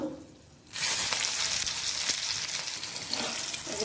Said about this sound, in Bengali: কালো জিরা, তেজপাতা, শুকনো লঙ্কা দিয়ে দেব, চেরা কাঁচা লঙ্কা দিয়ে দেব।